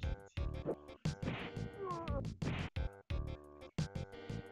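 A pet cat meows repeatedly and close by during a gameplay stream, several drawn-out, wavering cries in quick succession over a busy background.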